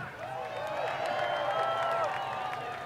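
Spectators at a spectator drag race night at Rockford Speedway cheer and whoop for a truck lined up against a Buick LeSabre, a distant, moderate crowd roar with scattered claps and high yells rising in the middle.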